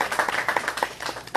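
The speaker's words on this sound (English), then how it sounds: "So let's give them a round of applause." Brief burst of clapping at an outdoor ribbon cutting for a new woman-owned, minority-owned UPS store in Ellenwood, Henry County, a scattered patter of hands from a small nearby crowd.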